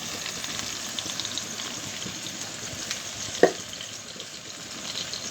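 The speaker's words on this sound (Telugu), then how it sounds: "టమాటాలు మంచిగా మగ్గుతున్నాయి కదా ఇప్పుడు ఈ దశలోనే మనం పుదీనా వేసేసుకున్నాం" Steady sizzling of tomatoes and mint frying in a pan, a continuous close hiss with one small clink partway through and no talk.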